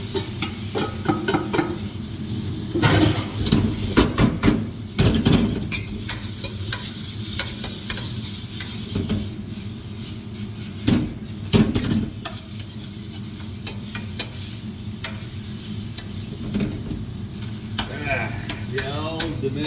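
Prawns stir-frying in oil in a wok over a domestic gas stove, a loud continuous sizzle broken by repeated scraping and clanking of the utensil against the metal pan, with a voice talking now and then.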